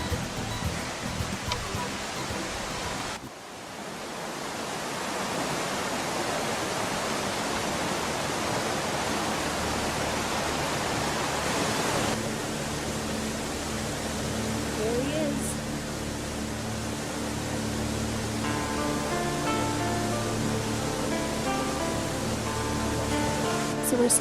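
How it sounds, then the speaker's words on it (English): A river rushing beside a mountain hiking trail on the Inca Trail in Peru, a steady broad roar of flowing water heard close by for the whole stretch, with a faint voice briefly audible near the middle. "I hope you can hear that wonderful river"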